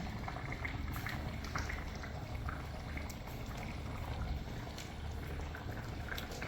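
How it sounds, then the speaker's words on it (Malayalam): A pot of Kerala-style mackerel curry in ground coconut gravy bubbles and boils steadily, a continuous moderate liquid churning with scattered pops, no talking. "അപ്പൊ കറി നല്ലോണം തിളച്ചിട്ടുണ്ട്"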